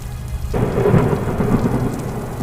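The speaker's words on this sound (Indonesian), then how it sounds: "tiba-tiba hujan deras dan berkabut tebal" A heavy downpour starts suddenly and keeps up a dense, loud roar, with low thunder rumbling underneath and no voices.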